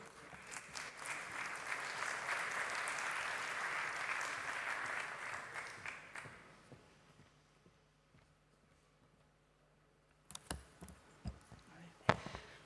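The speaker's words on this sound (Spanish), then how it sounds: "Pido un fuerte aplauso para Cristina Lobillo." A conference audience at a hydrogen energy event applauds a speaker warmly for about six seconds, then the clapping fades into quiet room noise, followed by some handling knocks.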